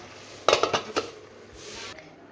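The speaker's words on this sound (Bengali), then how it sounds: "একটু নেড়ে চেড়ে দেব।" A utensil stirs cabbage, carrot and peas in a metal cooking pan, giving a quick burst of four or five close metallic clinks and scrapes, then a quiet stretch of faint background hiss.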